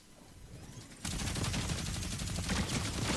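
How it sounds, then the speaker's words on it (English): A minigun in a video game opens up after a brief lull and keeps firing in a loud, dense, sustained rapid burst to the end, with no talking. "So there's somebody else got a minigun."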